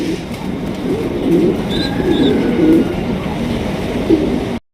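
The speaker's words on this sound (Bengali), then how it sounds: "দুইটা বাচ্চা চিচি করতে আছে" Two Deshi pigeon chicks chirping beside an adult pair in a pigeon loft, faint high peeps over a steady dense background hum that runs continuously, then cuts off abruptly at the end.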